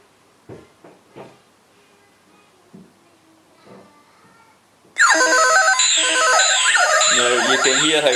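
After a few quiet clicks and taps, loud electronic music from the racing video game Ridge Racer, with synth tones, bursts in and plays continuously.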